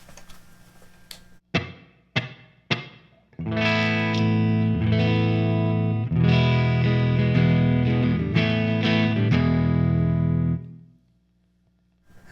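Clean electric guitar through a Line 6 Helix modeling a Mesa/Boogie Mark V amp with a touch of reverb, a few short picked notes followed by sustained ringing chords that fade into a reverb tail, played alone with no talk.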